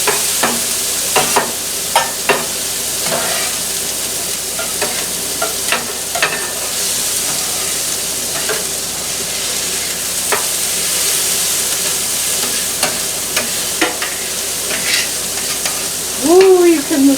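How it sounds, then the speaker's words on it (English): Peppers, onions and corn sizzle loudly and steadily on a flat top griddle, with a spatula scraping and tapping across the hot surface every few seconds. "spread out these peppers, onions, corn,"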